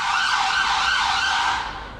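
A loud emergency vehicle siren wails steadily on a London street, its pitch sweeping up and down in repeated cycles, fading slightly at the end.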